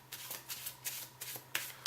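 A deck of playing cards is shuffled by hand, giving a run of quick, close riffling bursts at an uneven rhythm, with no speech.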